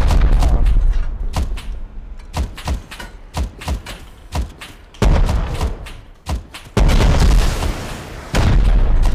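Repeated heavy booming blasts from a video game, irregularly spaced, some in quick pairs, with louder sustained explosion bursts toward the end.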